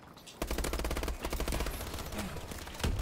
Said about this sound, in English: I love shooting from the side with this gun.